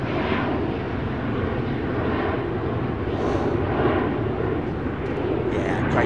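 An airliner departing a runway at Chicago O'Hare and banking away, a steady broadband engine roar heard from a distance that swells and fades gently, with people talking faintly over it.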